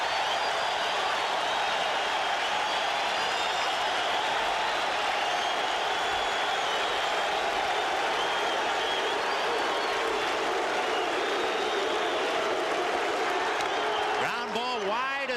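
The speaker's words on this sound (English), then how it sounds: "And listen to this crowd now." A large stadium crowd at the 1986 World Series Game 5 between the Red Sox and Mets roars and cheers continuously, a dense sustained wash of noise with no lulls.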